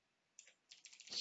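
Faint keystrokes on a computer keyboard, a few quick taps and then a short run of rapid clicks ending in a slightly louder press, with no voice.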